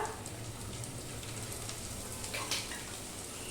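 Dried chili, fenugreek, ginger paste and onion tempering in hot oil in a pan, giving a steady, fairly soft sizzle and crackle throughout with no talking.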